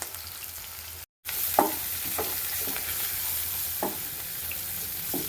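Chili powder sizzles steadily in coconut oil with onions while a utensil scrapes and stirs the pan a few times, with one brief dropout near the start.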